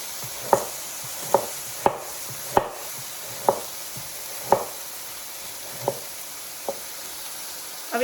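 A knife cuts a carrot into thin sticks on a board, giving about nine crisp, evenly spaced chops, close and clear over a quiet background hum with no talking.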